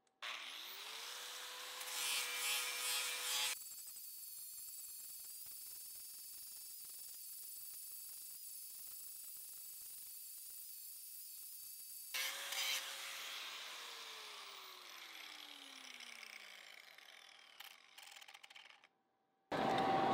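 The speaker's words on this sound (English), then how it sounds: "We're gonna see how quickly we can get down 1-inch of 1-inch solid bar." A grinding disc cuts down a 1-inch solid metal bar, making a harsh, sustained grinding roar. The pitch shifts as the load changes, and the grinder winds down and spins up again between passes.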